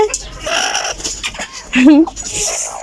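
Chickens on a poultry farm cluck and squawk close by, one drawn-out wavering call standing out, while a person talks in between.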